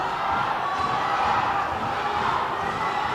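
Boxing crowd at a national amateur finals cheering for a fighter named Cole, a steady dense roar of voices and shouts that holds at full loudness throughout without break.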